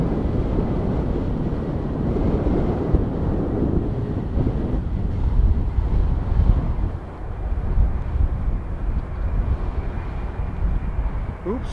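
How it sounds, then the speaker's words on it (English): Heavy wind buffets the microphone throughout at an airport plane-spotting spot at Edmonton International, a steady loud rumble with faint aircraft engine noise underneath. "I'm trying to zoom in, but unfortunately this wind is not helping me."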